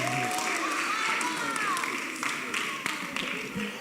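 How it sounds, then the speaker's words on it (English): Outdoor applause and clapping for a drone pilot at a drone training bootcamp, a steady patter of claps under voices and crowd chatter, with a few sharper taps near the end. "Clap for him, clap for him."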